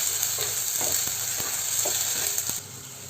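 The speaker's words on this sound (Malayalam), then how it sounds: "വെളിച്ചെണ്ണയിൽ നന്നായിട്ടൊന്ന് വാട്ടിയെടുക്കാം കേട്ടോ." Chilli powder stirred and frying in coconut oil for a Palakkadan okra pulincurry, an even sizzle with soft, spaced scrapes of the spoon that eases off near the end.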